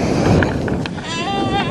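Goats bleat on a farm near wire fencing, a wavering, quavering call rising clearly in the latter half over a steady background with some faint talk.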